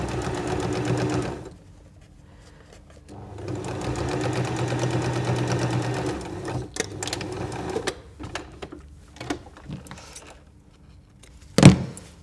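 A sewing machine stitches folded tape onto cotton bunting made from scrap fabric in two steady, close runs, followed by scattered clicks and handling noises.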